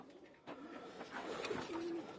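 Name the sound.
pigeons cooing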